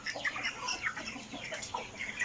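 Broiler chickens about 25 days old cluck and chirp together in a farm shed, forming a busy, overlapping chorus of close and mid-distance calls with no clear pauses.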